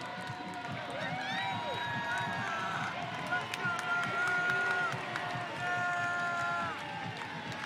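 Soccer stadium crowd at Bonney Field in Sacramento during a match, a broad roar of cheering with whistles and shouts rising and falling, under a commentator talking throughout.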